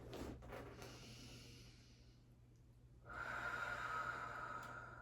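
Slow, deep belly breathing during a child's pose in a Pilates mat session, a soft airy exhale followed by a quieter pause and then a steady breathy inhale, close and faint.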